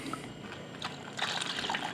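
Water trickles and pours into a Pinter home beer brewing kit while a Creamy Irish Stout is prepared, a close, steady liquid dribble with a few brighter splashy bursts toward the end.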